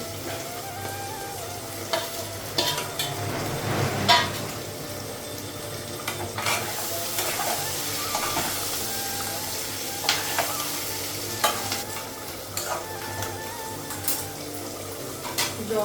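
Egg is stirred into onions and potatoes frying in a pan, giving a steady close sizzle with scattered scrapes and clicks of the utensil against the metal.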